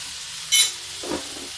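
Turmeric and red chili powder land on ridge gourd frying in a pan, a short bright hiss burst followed by a softer sizzle and stirring, close and alone without speech.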